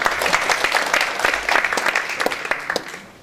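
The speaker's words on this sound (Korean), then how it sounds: "다시 한번 큰 박수 부탁드립니다." Sustained audience applause at a panel forum with dense, crackling hand claps throughout, loud at first and tapering off toward the end.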